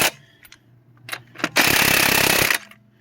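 An impact gun tightens the lug nuts on a 2010 Chevy Impala wheel during a brake and rotor job: a few short clicks and bursts, then one loud, sustained, close rattling hammer of about a second.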